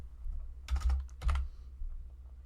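Two short flurries of computer keyboard keystrokes, close and crisp, separated by a brief pause, with no voices.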